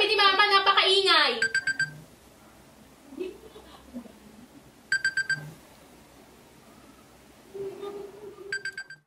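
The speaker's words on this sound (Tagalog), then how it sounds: "Patayin mo na yung alarm mo!" An alarm clock rings in short bursts of rapid beeping, three separate rounds spaced across the moment, loud and close, while a voice shouts first and other people talk between the rings.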